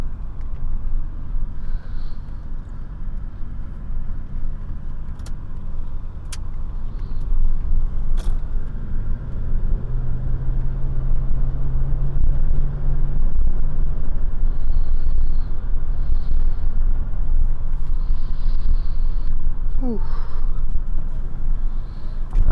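A Mercedes W126 on an evening drive with the back and side windows open, heard as a steady low engine and road rumble with wind noise that rises and holds loud through the middle, plus a few faint clicks.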